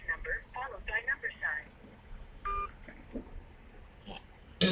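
Telephone keypad tones pressed to enter a voicemail mailbox number, several short beeps in quick bursts, with an automated phone prompt and a voice talking around them.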